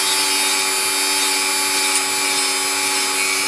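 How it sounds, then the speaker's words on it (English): Dremel rotary tool cleaning up a part of a Hornby locomotive power bogie, a steady close high-pitched whine that runs continuously without pause. "while I've got the Dremel on the go, I'm going to clean that bit up there"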